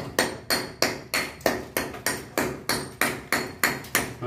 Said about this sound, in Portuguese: Você tem que fazer o picoteamento da parede.